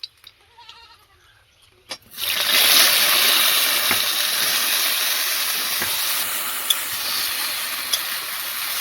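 Jujube berries drop into hot mustard oil with toasted five-spice seeds. After a quiet start with a faint voice, a sudden loud hiss bursts out and continues as steady close sizzling.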